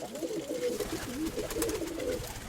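A female dove coos in a continuous, wavering low murmur, close and steady throughout, with no voices.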